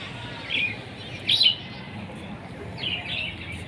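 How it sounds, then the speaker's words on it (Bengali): Birds chirping outdoors near a ten-storey building, three short bright bursts of tweets over a constant breezy background hiss. "পাখি।"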